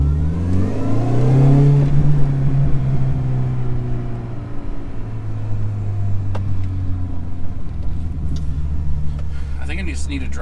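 A warmed-up 2005 Mini Cooper S R53 engine runs steadily with a low, even drone and a brief rising rev near the start, heard under a voice talking for much of the time.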